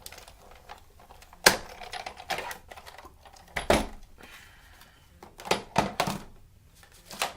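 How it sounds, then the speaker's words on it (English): A Big Shot die-cutting machine cranks cardstock, inside an embossing folder between cutting pads, through its rollers: close, intermittent clicks and rattling bursts in uneven clusters, with no voices. "run it through the Big Shot"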